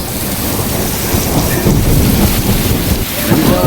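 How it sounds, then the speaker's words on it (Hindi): Heavy rain pours steadily while low thunder rumbles and cracks through the downpour, loud and continuous with no voices. "बिजली भी कड़क रही है और बारिश भी तेज हो रही है।"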